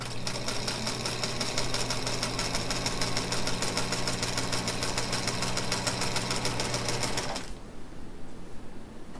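A Featherweight sewing machine stitches steadily at close range, its rapid rhythmic needle clatter running continuously for about seven seconds before stopping abruptly, leaving faint room noise.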